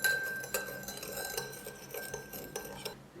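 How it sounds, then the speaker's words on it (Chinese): A spoon stirs warm sugar water in a bowl, giving repeated close metal clinks and scrapes against the dish in a steady rhythm that continues alone for several seconds before stopping. "搅拌均匀"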